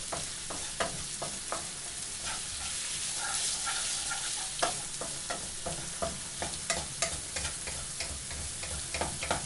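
Onions fry on high heat in a pan over a full flame, a steady sizzle broken by frequent clicks and scrapes as they are stirred.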